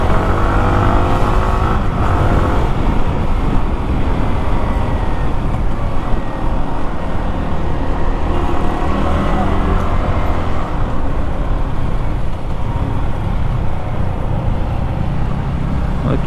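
A Yamaha R15 V4 motorcycle riding along the road, its engine droning loudly and steadily with wind rush and shifts in pitch as gears change, no talk over it.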